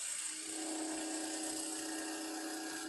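A woodturning tool cuts steadily along a spinning piece on a lathe, throwing off ribbon shavings for a turner's mallet; a continuous, fairly faint hiss and whir, unbroken, with no talk.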